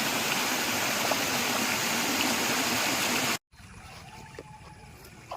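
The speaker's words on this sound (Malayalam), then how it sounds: "ഇതാ ഇവിടെ ചെറിയൊരു വെള്ളച്ചാട്ടം പോലെ ഉണ്ട്" A small waterfall by a lake in a Kerala village rushes in a steady, loud broadband wash for about three seconds, then cuts abruptly to a much quieter stretch of soft water and faint outdoor ambience.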